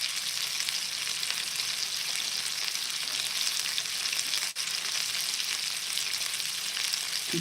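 Beans heat and sizzle in a pan over a cooking fire in a cave, a steady, faint frying hiss that runs unbroken apart from one brief click.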